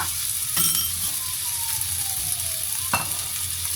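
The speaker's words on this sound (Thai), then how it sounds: "โอเคผัดประมาณนี้นะคะ ใส่ลาบลงไปเลยจ้าใส่ลาบลงไปเลยนะคะ" Leftover larb stir-fries in a hot pan for fried rice, a steady close sizzle with occasional scraping and clinks of the utensil against the pan, no voices.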